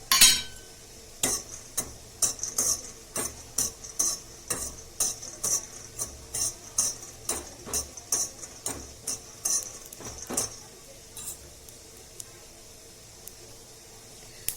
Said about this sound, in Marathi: आता आपण शेंगदाणे भाजून घेऊ